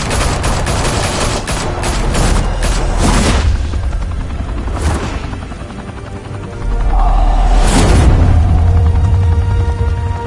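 Gunfire in a Batman game on PS4, loud rapid bursts of shots up front giving way to a sustained rumbling roar like a hovering helicopter, with a few sharp booms and a swelling low drone near the end, no voices.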